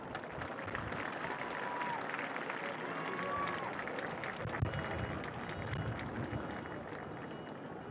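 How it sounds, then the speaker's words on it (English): Audience applause at the Fair Lawn High School 2023 commencement ceremony, a broad, continuous rumble of clapping from a large crowd, heard from a distance at a low, steady level with voices blended in. "please give your families and friends behind you a big round of applause"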